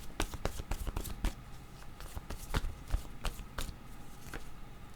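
Tarot cards being shuffled by hand, a quick run of sharp, close riffling slaps and flicks in uneven bursts, with no talking.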